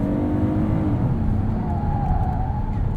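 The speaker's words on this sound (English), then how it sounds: "A lot of squealing from these Michelins." Michelin tires on a 2020 Kia Telluride SX AWD squeal while being pushed through a corner, a sustained tonal whine riding over steady, loud road and engine noise inside the cabin.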